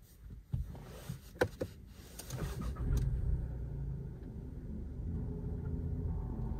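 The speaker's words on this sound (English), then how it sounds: "here I'm gonna start the car so you can kind of hear the engine sound" A 2022 Volkswagen Polo R-Line with a 1.0 TSI engine starts up after a few clicks and a brief crank, then settles into a quiet, steady low idle heard from close by, with no talking.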